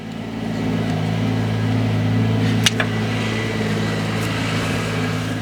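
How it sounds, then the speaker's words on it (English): An old tractor engine runs steadily nearby, a low droning hum holding even throughout with a couple of brief knocks partway in. "I hear my wife on the tractor."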